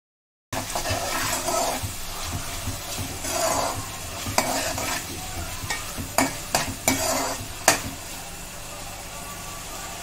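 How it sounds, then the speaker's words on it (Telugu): Chicken 65 gravy being stirred in a pan, a steady sizzle with rhythmic scraping strokes and a few sharp taps of the spoon toward the end, close and alone after a brief silent start. "ఒకసారి కలిపేసుకుందాం"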